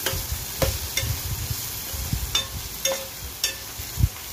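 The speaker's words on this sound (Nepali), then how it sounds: "मजाले चलाउँदै तपाईँले यो मसलालाई पकाउन सक्नुहुन्छ।" Spices fry with ginger garlic paste and turmeric while a spatula stirs, repeated sharp scrapes and taps against the pan over a steady low sizzle, close by.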